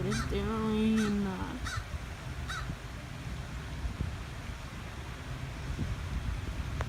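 A crow caws several times in quick succession, loud and close at first, then a couple of fainter calls follow over light outdoor wind.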